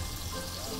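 A water faucet running in a brief, steady splashing stream, fairly close and alone, with no talking.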